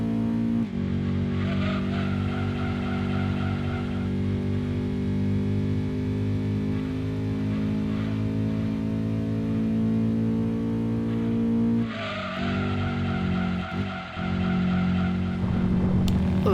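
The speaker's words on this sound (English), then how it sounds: "Macadamia has a engine sound that could send messages to aliens" Macadamia racing car engine in Gran Turismo 2 on the PS1, a steady, high-pitched harmonic drone with shifting tones and brief tire squeal, continuous and loud with a short dip in revs partway through.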